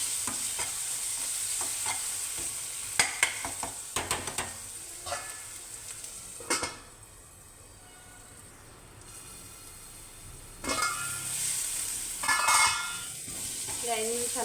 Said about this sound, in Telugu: ఇది కొద్దిగా ఒక 5 నిమిషాలు వేగనివ్వాలి